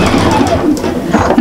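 A sewing machine runs steadily as it stitches the seam of a double-sided Christmas cushion, a continuous close mechanical whir with slight fluctuations throughout and no talk.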